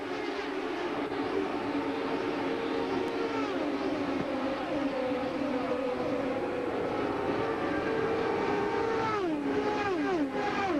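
IndyCar race cars scream past at Homestead-Miami Speedway during green flag racing in the 2008 XM Satellite Radio Indy 300, a continuous high-pitched engine whine with rising and falling pitch sweeps as cars pass, steady and fairly loud.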